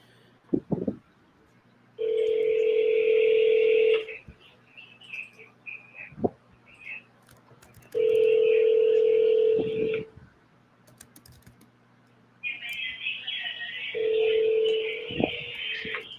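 Touch-tone telephone dialing on a phone call, with three sustained dual-tone bursts of about two seconds each, evenly spaced, mixed with a few faint clicks in between and no talk.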